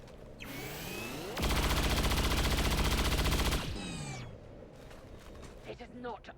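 Sustained automatic gunfire from XCOM 2 rips into an enemy turret for about two and a half seconds, a dense rapid rattle loud and close, bracketed by whooshing sweeps and mechanical clanks before and after.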